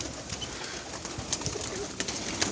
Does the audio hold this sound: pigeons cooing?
yes